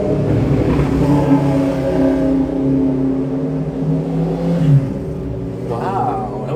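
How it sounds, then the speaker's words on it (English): Two motorcycles pass from opposite directions, engines droning and revving as they approach and fade, with a voice talking partway through. "2 motorcycles going on each other's side"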